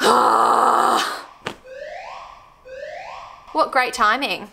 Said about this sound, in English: That's our fire alarm and it keeps going off.